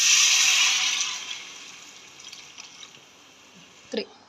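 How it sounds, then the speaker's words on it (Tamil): Water poured into a cooking pot while making kushka, a steady broadband splash in the first second that fades to faint trickles and drips, with a brief clink near the end. "தேவையான அளவுக்கு தண்ணி ஊற்றிக்கலாம்."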